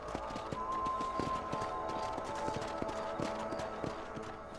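Rapid, even clip-clop of a horse galloping along a trail in the game Red Dead Redemption, hoofbeats steady and fairly close over a faint background bed.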